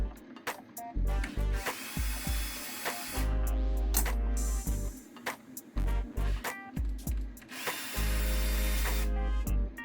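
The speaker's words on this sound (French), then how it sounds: "je vais prendre la visseuse, la petite rallonge et la douille de T20" Cordless power screwdriver fitted with a short extension and T20 socket, unscrewing fasteners on the high-pressure fuel pump of a 1.6 THP engine; repeated loud whirring bursts of varying length separated by brief pauses and clicks.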